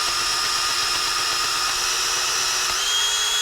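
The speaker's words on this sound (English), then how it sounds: "apply light to medium pressure while rotating the drill" Power drill turning a hole saw on a centering mandrel while cutting for a transmission seal: a steady high-pitched whine held at constant loudness throughout, close and alone, with a slight pitch shift near the end.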